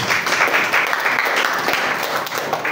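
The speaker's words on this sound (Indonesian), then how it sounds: "tepuk tangan yang meriah buat Tuhan Yesus" Lively applause from children and adults at an elementary school Christmas service in Jakarta, a thick, even wash of clapping that holds steady and close for a few seconds.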